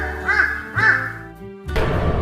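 Two harsh crow caws from a Hindi cartoon story ring out close by in quick succession, followed by a sustained low rumble of background noise.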